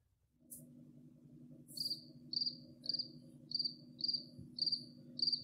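A cricket chirps indoors in a steady series of short, high pulses, roughly one every half second, close and clear over a low constant hum.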